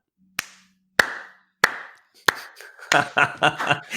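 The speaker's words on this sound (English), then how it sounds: "Slow clap." A slow clap: four sharp, evenly spaced hand claps ring out alone in a quiet room, then give way to a quicker run of claps.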